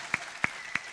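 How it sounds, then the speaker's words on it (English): Three separate hand claps spaced evenly apart, each a short sharp slap, fairly close and moderately loud, with quiet room tone between them. "Even the Bredos are clapping now."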